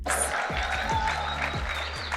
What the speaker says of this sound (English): Can we just give a round of applause for these amazing creators?